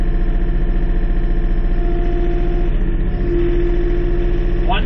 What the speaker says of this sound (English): we're going to run each tractor at 1800 RPM